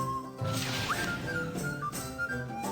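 A short whistle cue from the video game Descent to Undermountain, a quick rising electronic tone over layered game music and effects, with no one talking over it.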